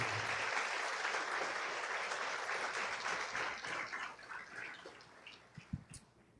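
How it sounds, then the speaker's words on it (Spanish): A church congregation applauds with dense, steady clapping that gradually thins out and fades, leaving a few scattered claps at the end. "Fuerte ese aplauso al Señor."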